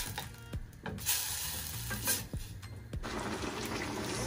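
Tomato hits a hot frying pan, giving a steady sizzle broken by a few clinks and stirring scrapes.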